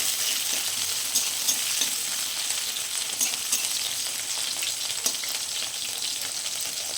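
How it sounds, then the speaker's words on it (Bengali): Onions fry in mustard oil with a loud, steady crackling sizzle, broken by occasional light stirring clicks. No one talks. "পেঁয়াজ কুচিগুলো খুব ভালো মতো ভেজে দিতে হবে"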